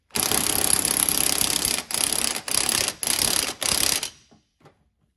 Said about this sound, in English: It's kind of rattling you to death the whole time anyway, but there is a noticeable difference in feel on the impact driver when it bottoms out